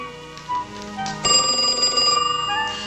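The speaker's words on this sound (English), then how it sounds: "Can you please get the phone?" Telephone ringing in a home, a bright electronic bell tone that starts after a moment and keeps trilling steadily, fairly loud, with faint background sounds around it.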